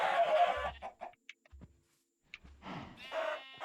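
Minecraft chickens clucking in a few short bursts separated by brief gaps, close and clear, with soft low thumps between calls and nobody talking.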